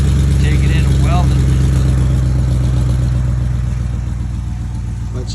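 A Ford F150 pickup engine with new catalytic converters and exhaust rumbles loudly up close with a deep, throaty exhaust note, steady revving with some clatter, gradually easing off toward the end.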